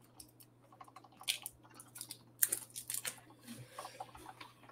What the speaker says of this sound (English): My typing is not too loud